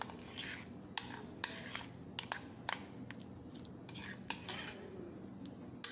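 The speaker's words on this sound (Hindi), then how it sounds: "सबको मिक्स कर लेंगे।" A spoon stirs spices and ingredients together in a bowl in a home kitchen, giving soft scraping and irregular sharp clinks against the dish, fairly quiet and close, with no speech.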